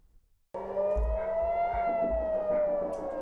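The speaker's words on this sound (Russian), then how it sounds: "Эта самая сирена прозвучала," An Israeli air raid siren sounds loud and steady after a brief quiet start, a single sustained wailing tone with rich harmonics and low rumble beneath, rocket attack warning.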